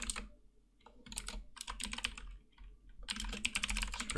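Rapid, uneven keystrokes on a computer keyboard while C++ code is entered, in close bursts with a short pause partway through and a denser flurry at the end.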